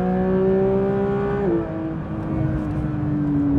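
A Porsche GT3 accelerates hard, its engine note climbing in a loud, close steady whine, then dipping briefly at a gear change before pulling upward again with rising pitch.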